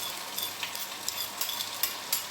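Relish being added to a hot saucepan gives a soft, steady sizzle with a few quick clinks and stirring scrapes; no one talks.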